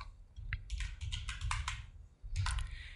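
Computer keyboard keys pressed for a Photoshop shortcut, a quick cluster of close, crisp clicks, then a short pause and another burst of taps.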